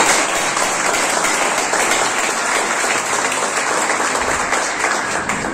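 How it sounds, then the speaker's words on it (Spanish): Applause from an audience at a 50-hour entrepreneurship workshop, loud, dense and sustained clapping that holds steady from start to finish with no talking over it. "Así que un aplauso para ustedes."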